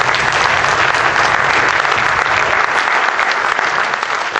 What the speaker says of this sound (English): your band directors, how about giving them a great applause for supporting you